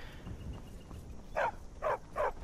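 A dog in Skyrim gives three short barks in quick succession, near and fairly clear, over a quiet low background murmur.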